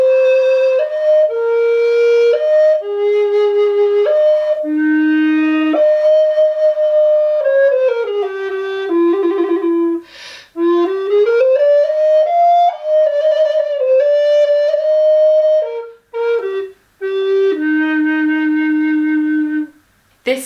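A voice flute, a recorder in D used for French Baroque flute music, plays a slow flowing melody of pure, breathy sustained notes with short pauses between phrases, heard solo and close.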